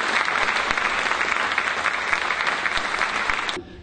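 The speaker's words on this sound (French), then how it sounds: "je vais vous demander d'applaudir tous ces conférenciers pour leur présence" A conference audience applauds the speakers with sustained, loud, even clapping from a sizable crowd, which cuts off abruptly near the end.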